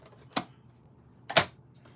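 A paper scrap is trimmed for a handmade card: two crisp, short cuts about a second apart, close and alone in a quiet room.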